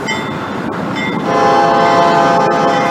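A long freight train of about 175 cars sounds its horn at a road crossing, loud and close, the steady tone swelling over the rumble of the moving train.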